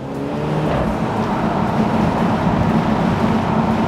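A BMW Z4 with a 2-liter engine drops a gear and accelerates hard on a coastal mountain road, a loud rising engine drone with wind noise and no talk.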